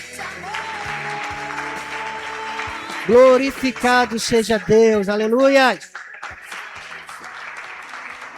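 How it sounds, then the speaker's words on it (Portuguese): A church congregation stands and applauds during a celebration service, sustained clapping under a man's loud sung and spoken praise, with a held organ-like tone early on and the clapping continuing after he stops. "só para a gente levantar agora e aplaudirmos de pé com toda a força ao Senhor dos Senhores"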